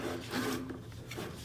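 A hand saw cuts a starting groove in a wooden bookshelf board with slow, careful rasping strokes, close and fairly quiet, with about two rough scraping passes and no talk.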